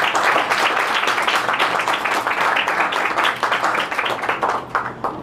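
A church congregation claps loudly in worship, the dense applause pulsing in a roughly rhythmic beat before thinning and fading toward the end.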